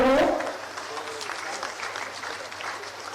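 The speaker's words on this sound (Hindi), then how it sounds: "तालियां आपकी तरफ से जरूर हो।" Audience applause at a government asset-distribution ceremony in Siringsiya village, Tonto block, a steady clapping crowd that starts with a loud burst and then settles into sustained moderate applause.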